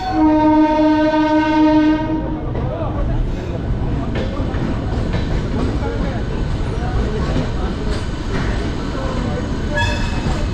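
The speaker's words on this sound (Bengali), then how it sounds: "এই দেখুন শান্তিনিকেতন এক্সপ্রেস যাচ্ছে।" Shantiniketan Express passing on the Bardhaman–Howrah chord line, heard from a moving local train: a loud horn blast for about two seconds, then a heavy, continuous rumbling rush of wheels and carriages, with a voice speaking over it.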